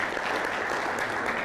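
Steady audience applause at a restorative justice summit, a dense wash of clapping that holds evenly through the whole short stretch with no voices on top.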